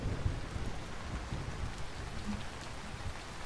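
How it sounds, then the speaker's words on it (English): Steady rain falls in a video game with thunder rumbling low and continuous, fairly quiet and alone, without any talk. "That lightning is still popping off in there."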